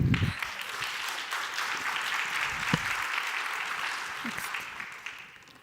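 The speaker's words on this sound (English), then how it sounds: "I want you to applaud here to encourage." Conference audience clapping in encouragement for a young researcher, a full steady round of applause that tapers off, with a few brief voice sounds underneath.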